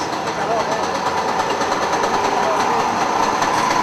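A small 175 cc motor of a microcar scooter at a microcar meet in Manresa runs with a steady, buzzing drone throughout, with voices faintly over it.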